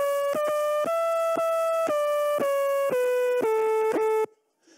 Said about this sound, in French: C'est le bruit de bulles qui se déplacent.